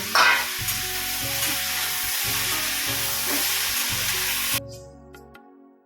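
Steady loud sizzling of food frying in a pan, with rhythmic stirring scrapes, cutting off abruptly near the end.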